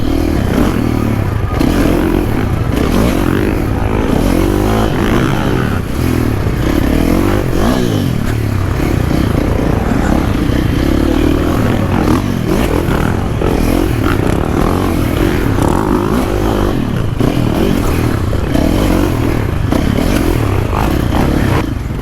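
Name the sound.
motocross motorcycle riding on supercross track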